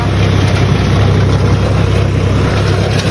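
A tractor engine runs in a steady, loud, continuous drone with a deep low hum that stays even throughout.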